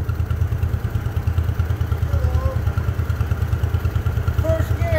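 A Massey Harris Pony tractor engine runs at a steady low chugging idle close by, its even thumping pulses continuing throughout with faint wind noise.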